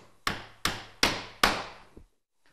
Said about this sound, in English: Secure the ridge batten straps to the trusses with galvanised clout nails.